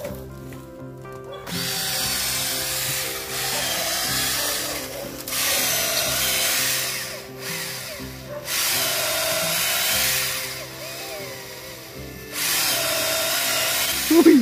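A power drill whirs into the trunk of a Vietnamese red rosewood tree in several bursts, each grinding for a couple of seconds before pausing and starting again, close and loud.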